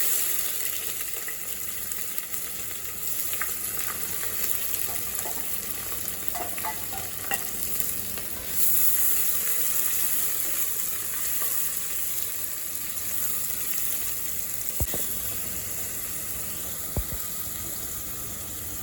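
Sliced onions sizzling in hot oil for prawn biryani, a steady broadband frying hiss held throughout with occasional stirring scrapes and a few sharp clinks, close and even, no voices.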